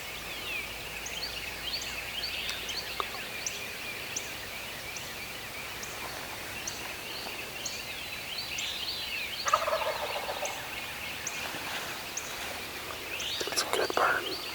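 Wild turkeys gobble during a spring hunt on a Georgia farm: a few loud, rattling gobbles burst out, one around the middle and another near the end, over steady chirping songbirds and faint rustling outdoors.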